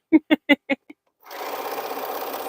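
A quilting machine stitches through a heavy T-shirt quilt, starting with five sharp separate knocks and then settling into a fast, even mechanical whir that runs to the end.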